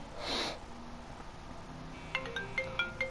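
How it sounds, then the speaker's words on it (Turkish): A mobile phone ringtone sounds in Grand Theft Auto V Online role play, a faint electronic ringing pattern that starts near the end after a quiet lull. "Bir dakika. Telefon çalıyor."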